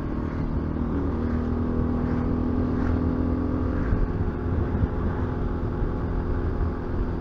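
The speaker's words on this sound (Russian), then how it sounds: "Мотоциклистов много." Continuous engine rumble and traffic noise close by at the Krestovy Pass, with many motorcycles droning past and a brief higher whine, no clear voices.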